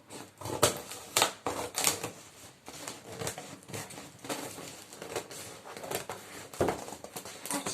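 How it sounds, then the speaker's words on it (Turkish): A cardboard parcel box of Solo products being opened up close: bursts of tearing, crinkling and rustling packaging in irregular bursts, with quieter handling between them and no talking. "Biz de sizlerin huzurunda hep beraber bu koliyi açacağız."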